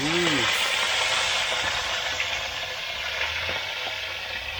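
Cooking oil sizzles steadily in a pan over a glowing fire as food fries, a continuous broadband hiss close by with faint clinks and a brief voice at the start.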